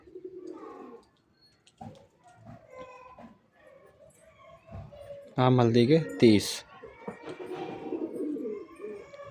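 Pigeons coo and call in a loft or rooftop flock while someone talks over them, the cooing rising louder in bursts midway before settling back to a steady murmur.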